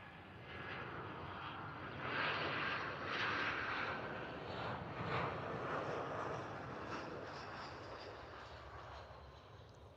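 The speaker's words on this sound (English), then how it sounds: "That's the second hard easyJet landing we've had on the stream today." An easyJet airliner landing hard at Liverpool Airport, a broad engine roar and rush heard from a distance that swells and then holds steady, with no voices over it.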